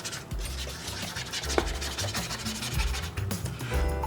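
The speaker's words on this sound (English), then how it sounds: "scraping the paint off here" Acrylic gouache paint is scraped off a palette, a continuous close, gritty rubbing and rasping with irregular scratchy strokes throughout.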